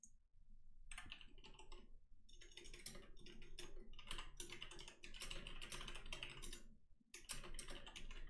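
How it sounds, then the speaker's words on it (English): Fast typing on a computer keyboard, close and clear, with bursts of rapid key clicks broken by short pauses and no voices. "just typing to some of the players, and we'll get it going"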